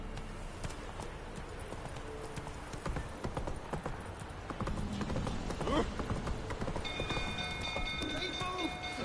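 Roach, the horse in The Witcher 3, gallops with a fast, steady clip-clop of hooves that carries on throughout over busy game ambience, growing a little fuller toward the end.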